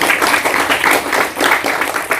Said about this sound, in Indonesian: Tepuk tangan dulu untuk Miss kita